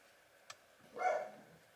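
A dog gives a single brief, muffled bark from somewhere off in the house, faint and fairly distant, after a small click.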